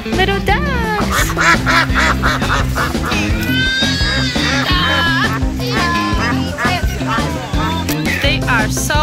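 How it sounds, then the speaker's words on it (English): Busy quacking from several ducks at a zoo mixes with lively background music, loud and continuous throughout. "Little ducks!"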